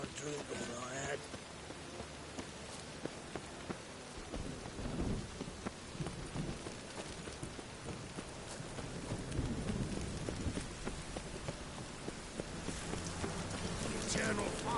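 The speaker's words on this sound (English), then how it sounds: "Storm, damn it." Steady heavy rain with rolling thunder in a stormy scene from The Witcher 3, a dense continuous downpour that builds louder toward the end, with rumbles underneath and a voice speaking briefly over it.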